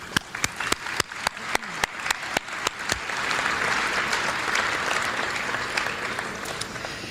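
A Chamber of Commerce awards audience applauds, opening with sharp, spaced claps that quickly merge into dense, sustained clapping filling the room, loud and steady to the end.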